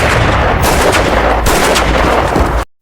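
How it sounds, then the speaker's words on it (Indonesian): Loud, rapid gunfire from an action film rings out in dense continuous bursts for almost three seconds, then cuts off abruptly. "Max pun memanfaatkan kesempatan itu untuk menembak Helen hingga modar"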